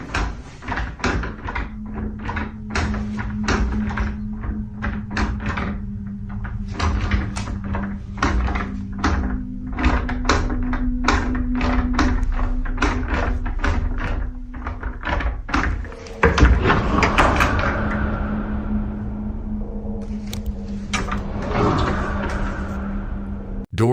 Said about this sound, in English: Doors opened and closed autonomously